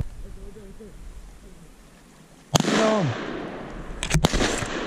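Two loud shotgun blasts ring out during a public-land duck hunt in Kentucky, the first booming and echoing outdoors and the second following about two seconds later, with voices around them.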